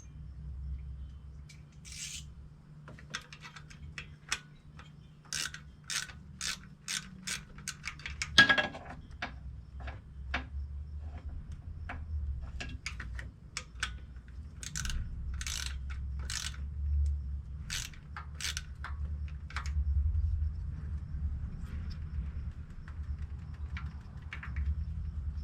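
A ratchet clicks in quick bursts while loosening a stud on a 1988 Buick 3800 engine. A run of sharp ticks and a clunk come early, then more spaced clicks over a low steady hum.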